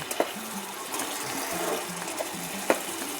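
Masala paste thinned with water, frying in a pan for a fish curry, gives a steady close wet sizzle and bubbling with a few soft clinks, no voices.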